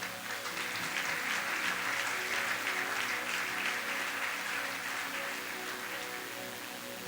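A congregation at a church seminar applauds in a dense, sustained wash of clapping that stays loud throughout and eases slightly toward the end, faint music tones underneath.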